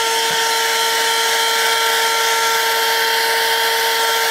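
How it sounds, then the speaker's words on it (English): Tsumbay handheld car vacuum cleaner running inside a car, a loud steady motor whine with a constant hiss of airflow and no break in sound. "Let the vacuum do the work"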